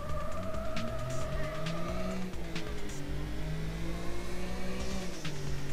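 A race car engine in Need for Speed: High Stakes on the Kindiac Park circuit revs and accelerates continuously, with shifting engine pitch, gear changes and a hint of tire noise, loud and steady with no talk.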